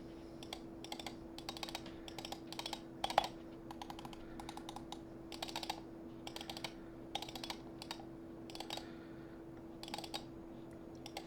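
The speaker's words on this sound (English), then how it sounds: "get as close as we can with the camera mic to the mouse so you guys can hear how the clicks sound" Clicks from a YUNZII M2 8K wireless gaming mouse recorded up close: rapid bursts of small, crisp clicks in irregular clusters over a steady low electrical hum, fairly quiet, with no talking.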